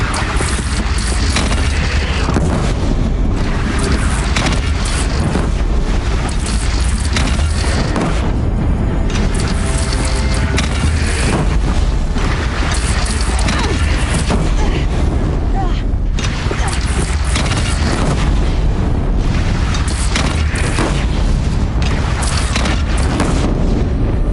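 A cannon fires during a battle in the video game Horizon Zero Dawn, with heavy booms and blasts in a dense, loud mix of combat effects, and voices intermittently underneath.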